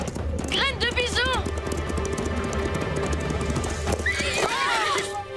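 A cartoon pony neighs loudly in two bursts of whinnying, with galloping hoofbeats and lively soundtrack music running underneath.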